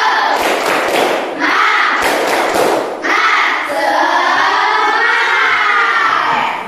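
A school class does a rhythmic spirit clap, with bursts of loud hand claps and thumps in quick patterns alternating with children chanting and shouting together in unison, close and lively.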